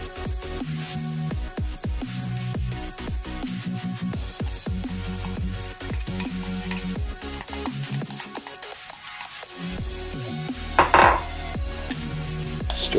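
Onions go into a pot of spicy Korean noodles in a kitchen, with repeated close clinks and scrapes of utensils against the pot, a steady clatter that stays busy throughout.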